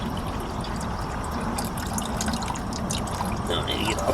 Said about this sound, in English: Let it boil for a while.